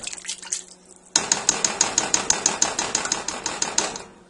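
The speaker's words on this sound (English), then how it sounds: "I'm going to stir it around" A spoon stirring butternut squash soup in a metal pot, rapid rhythmic clinking and scraping, about fifteen quick strokes close up after a brief quieter start.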